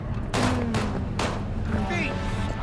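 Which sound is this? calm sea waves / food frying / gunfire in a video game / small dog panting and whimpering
gunfire in a video game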